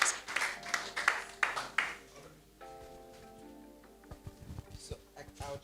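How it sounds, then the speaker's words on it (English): A small audience claps for a director, a short burst of scattered applause that fades after about two seconds, followed by faint knocks and room noise. "Can we have a round of applause for the director"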